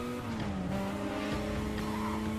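Race car in Need For Speed Carbon launching on nitrous, with a steady high engine whine and tire squeal rising under a continuous loud roar.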